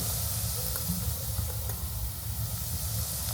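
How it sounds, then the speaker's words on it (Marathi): Turmeric and homemade masala sizzle in hot oil as the base for a prawn curry, a steady loud frying hiss that carries on without break. "वाटणचा फोडणीला मसाले ॲड केले"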